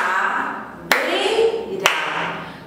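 Two sharp single hand claps by a teacher during a Portuguese lesson on syllables, spaced about a second apart, over a background of a voice.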